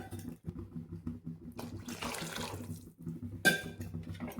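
Water poured from a glass into rice in a cooking pot for a bachelor-style tomato bath, a splashy pour swelling mid-clip over a steady low background hum, with a brief clink near the end.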